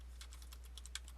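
Quick, light keystrokes on a computer keyboard as a math answer is typed, a short irregular run of faint clicks over a steady low hum with no talking.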